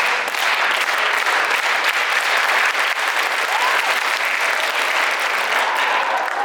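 A youth conference crowd claps along to a speaker's lead, a loud, continuous wash of many hands that stays steady and close throughout, without distinct separate beats and without talk.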